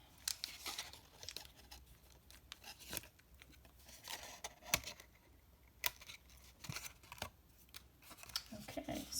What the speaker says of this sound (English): And then we want to cut this part away.